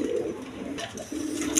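Big Giribaz high-flying pigeons, a breeding pair offered at a pigeon sale, give a steady low cooing close by, with a brief flutter of brighter sound near the end.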